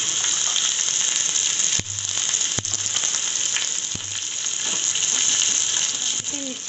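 Garlic and ginger fry in a pan with a steady, bright sizzling hiss, broken by a few sharp clicks and knocks from the pan.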